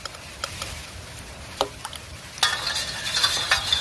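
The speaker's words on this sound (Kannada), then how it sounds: "ಉಪ್ಪು ಹಾಕಿ ಮಿಕ್ಸ್ ಮಾಡ್ತೇನೆ" A spoon stirs salt into hot water in a pot, heard as a few light, spaced clicks against the vessel, then a brief burst of closer scraping and swirling near the end.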